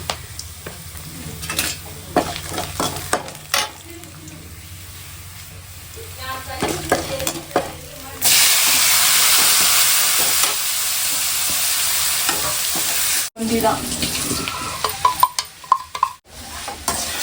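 Tempered chickpea sundal is stirred and scraped in a hot pan, with soft spoon clatter under talk and then a long, loud, steady sizzle and hiss before the stirring clicks return.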